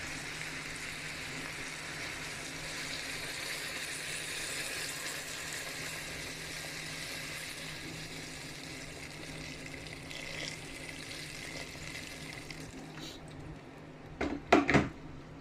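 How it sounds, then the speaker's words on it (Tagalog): Boiled water pours into a cooking pot of sautéed shrimp in a steady, even gush for several seconds. A few short knocks and clatters of the pot follow near the end. "nilagyan na natin ng pinakulong tubig"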